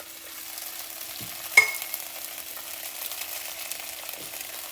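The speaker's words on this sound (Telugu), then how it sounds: "లిడ్ పెట్టకుండా ఫ్రై చేసుకోవాలండి కొంతసేపు" Cauliflower pieces fry uncovered in hot oil for gobi Manchuria, a steady soft sizzle with a single clear stir knock near the start and a few faint scrapes.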